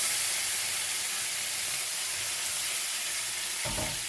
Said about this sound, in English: I'm just going to deglaze the pan